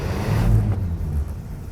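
The engine of a 1948 Timbs Special car cranks and catches, giving a close, low, rumbling surge that peaks briefly before settling into a rough idle.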